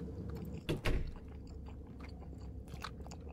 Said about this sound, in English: Stop chewing like that, bro.